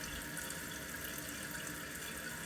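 Water rushes steadily into a Kohler toilet tank after a damaged fill valve is replaced, a constant, faint hissing flow with no pauses and no voices.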